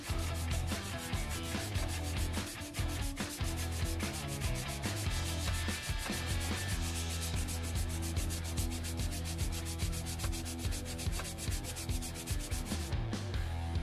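Coarse 30-grit abrasive rubbing steadily against a completely rusted knife blade, a continuous loud gritty scraping with fast repeated strokes and no pauses, heard alone.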